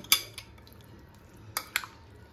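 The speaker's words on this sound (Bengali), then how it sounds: "এখন এটাকে আমি ভালো করে মিক্স করে নেব" Small mourala fish being mixed with mustard oil in a bowl, a few sharp close clinks of a spoon against the bowl separated by quiet stirring.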